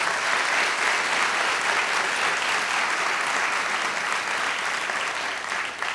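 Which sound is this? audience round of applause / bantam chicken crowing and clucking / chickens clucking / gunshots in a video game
audience round of applause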